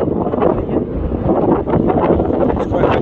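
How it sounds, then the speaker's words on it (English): Strong wind buffets the microphone outdoors, a steady loud roar and rumble lasting throughout with no pauses. "There's quite a strong wind."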